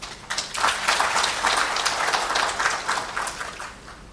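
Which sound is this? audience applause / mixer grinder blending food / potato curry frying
audience applause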